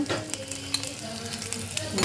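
Steady sizzling of vegetables frying in a pan, with light stirring scrapes and clinks of a utensil against metal, close up.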